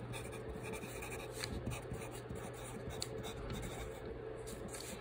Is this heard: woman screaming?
no